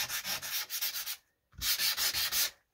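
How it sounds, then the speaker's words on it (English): Sandpaper rubs the printed text off book pages in two quick bursts of rapid back-and-forth scratchy strokes, separated by a short pause, close and fairly soft. "So I just sand most of the text off"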